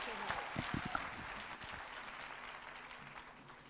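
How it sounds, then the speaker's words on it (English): An audience at a bursary awards ceremony gives a steady round of applause, with a few sharp close claps early on and then a continuous, moderately loud wash of clapping, and murmured voices faintly underneath. "A round of applause to Captain Dlamini"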